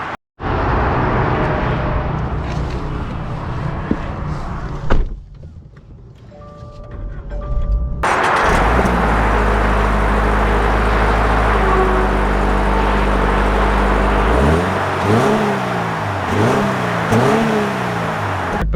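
A 2024 Toyota GR86 manual sports car starts up and drives off, its engine droning loudly and steadily close by, then revving in repeated rising surges as it works through the gears, after a brief quieter pause with a chime.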